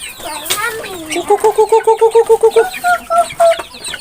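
Chickens cluck in a rapid run of repeated short calls, close by, during morning feeding in Laos, followed by a few more spaced clucks, with faint background noise.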